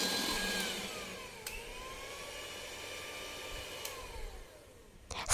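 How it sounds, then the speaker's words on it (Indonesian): A steady electric mixer whirs at high speed, beating eggs, sugar and emulsifier into a thick, pale batter for palm-sugar putu ayu, continuous and fairly close, with a brief clatter at the end. "lalu kita mixer sampai adonan berwarna putih dan kental berjejak"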